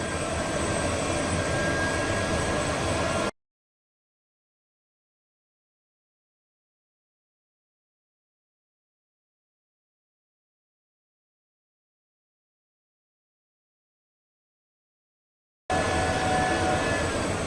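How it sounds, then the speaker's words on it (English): A steady, loud mechanical roar of an exhaust fan and laser engraver running cuts off abruptly into silence, then starts up again near the end. "exhaust fan, and then I'm going to hit play on the laser."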